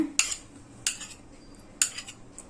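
Ghee being beaten with a utensil on a plate while semolina roasts, making three sharp metallic clinks spaced about a second apart over a quiet background.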